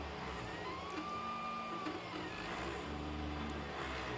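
A 3D printer builds a mini skull in red ABS filament, giving a quiet, steady mechanical hum with faint whining motor tones that rise and fall as the head moves.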